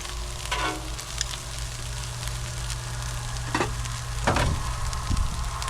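Bacon and potatoes frying on a Blackstone griddle, a continuous close sizzle with occasional scrapes and taps of a metal spatula across the flat-top surface, no talking.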